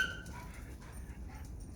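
Shelter puppies whimper and yip in thin, high squeaks, a few brief cries close by over a quiet background.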